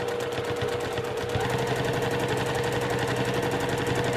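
A sewing machine stitches in a fast, steady needle rattle during free motion quilting, the tapping running continuously and fairly close, with a faint hum behind it and no talk.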